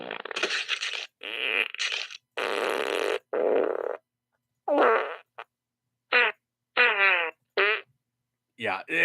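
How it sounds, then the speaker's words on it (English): Loud, close fart sounds come in a string of separate bursts of varying length, some long and raspy, others short and sputtering, with silent gaps between them. "yeah, this is me driving the farts,"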